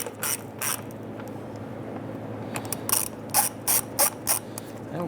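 A ratchet snugs down fasteners near the fender liner of a 2005-2010 Chrysler 300 during a power steering oil cooler replacement, giving short close bursts of clicking, a few quick strokes at a time, over a quiet background.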